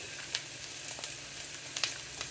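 Wild mushrooms sizzle and fry steadily in a pan, a continuous close crackle with occasional sharper pops and a stir or two, no talking.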